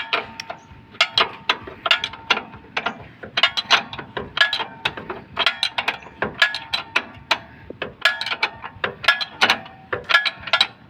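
Rapid ratcheting clicks come in repeated short bursts as a screw is tightened while adjusting a chain, crisp and close with brief pauses between runs.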